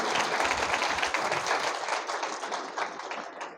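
Church congregation applauding after a sermon testimony, a steady burst of clapping from a crowd that thins out slightly toward the end, with no talk over it.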